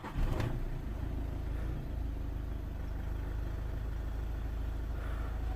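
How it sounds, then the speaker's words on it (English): Volkswagen Golf 1.6 TDI diesel engine with a limp-mode fault starting up, a brief cranking burst at the start followed by a steady, low, rumbling idle heard close by with no talk. "So let me start the engine."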